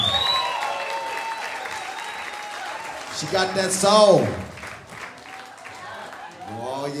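Concert audience applauds a singer at a holiday jam show, a broad wash of clapping and cheering that swells midway and continues under a loud announcer's voice talking over it.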